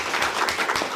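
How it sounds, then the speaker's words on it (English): Applause at a Board of Zoning meeting, a short burst of many hands clapping densely and steadily throughout. "if we could give a round of applause for him"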